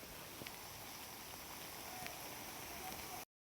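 Monsoon rain falls steadily in a village, a soft continuous hiss of drops with a few isolated taps, fairly faint and even before cutting off abruptly near the end.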